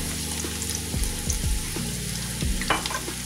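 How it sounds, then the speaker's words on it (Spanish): Onion frying in a hot skillet, giving a constant loud sizzle with several quick spatula scrapes and taps, close by and without any talking. "voy a poner la sartén al fuego para freír la cebolla"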